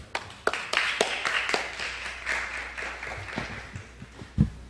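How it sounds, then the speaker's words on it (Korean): Audience clapping to welcome a keynote speaker at a data journalism conference opening ceremony, moderately close, thinning into scattered claps toward the end. "이 대표님을 큰 박수로 맞이해 주시기 바랍니다"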